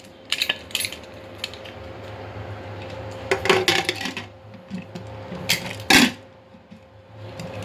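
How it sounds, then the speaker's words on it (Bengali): Pressure cooker lid being fastened in a home kitchen: a few sharp metallic clinks and clanks in separate bursts, close by, with quiet handling sounds between them. "প্রেশার কুকারে ঢাকনাটা আটকে দিই।"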